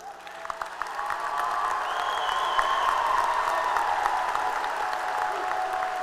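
A graduation audience claps and cheers in a large hall, a sustained wash of applause with scattered whoops, steady and fairly loud throughout, with a faint voice partly audible beneath.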